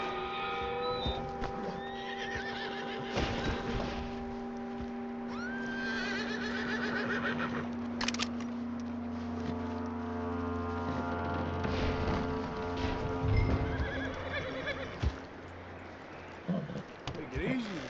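In Red Dead Redemption 2, horses whinny repeatedly while hooves clip-clop steadily on the ground, with game ambience and people talking throughout.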